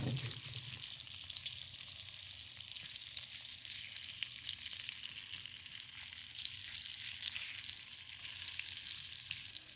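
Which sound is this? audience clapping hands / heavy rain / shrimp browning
shrimp browning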